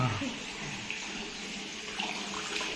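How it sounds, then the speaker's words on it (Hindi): Clear spring water pours steadily from a village spring in Himachal Pradesh, a continuous close rushing splash with no breaks. "ये आ गई बोड़ी, इसको बोड़ी बोलते हैं, देखो जहाँ से छोड़ रही तो गिरते हैं, ये साफ पानी है"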